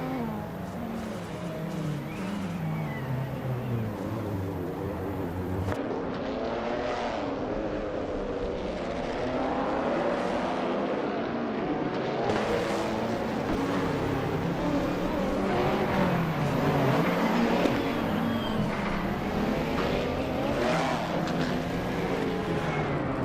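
Race car engines roar continuously in a racing video game, with rising and falling pitch sweeps as cars close in and overtake one another, loud and steady with no voices.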